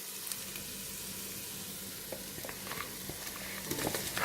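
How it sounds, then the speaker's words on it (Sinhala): Crabs hit a hot pan for a Sri Lankan-style crab curry, giving a steady, moderate sizzle with scattered crackles and pops that grow a little louder toward the end. "දැන් මම කකුලු ටික මේකට එකතු කරගන්නවා."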